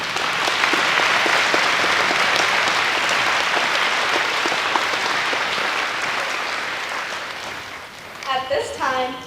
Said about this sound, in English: Would everyone please give them a round of applause?